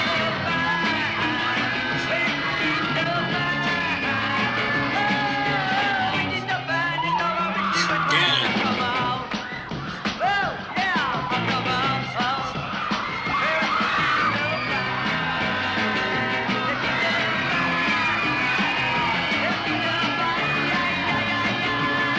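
A concert crowd yells, whoops and cheers loudly and continuously, with surges of screaming layered over live band music for the whole stretch.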